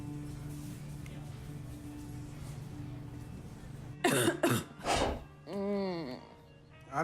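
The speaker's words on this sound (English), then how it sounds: "I don't like the sound of that cough" A person coughs in a few harsh bursts following a stretch of quiet room hum, then gives a rasping, throat-clearing sound, all close and fairly loud.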